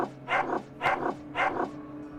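A dog in a video game barks three times in a steady rhythm, each a gruff, close, loud woof standing alone over a faint background hum.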